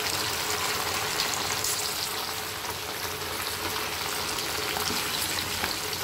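Chopped onion frying in hot oil with whole spices, dried red chillies and bay leaves, a steady loud dense sizzle filling the whole stretch with no voices.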